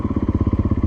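A 2024 Gas Gas EC450F dirt bike engine runs in first gear, giving a fast, even, close thumping pulse of about fifteen beats in under a second.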